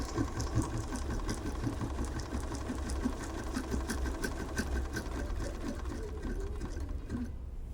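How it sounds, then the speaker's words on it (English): A Bernina sewing machine runs steadily while stitching a repeated decorative pattern, a continuous fast mechanical whir with rhythmic needle ticking, close and alone, stopping just before the end. "we're going to sew a repeat in a little bit"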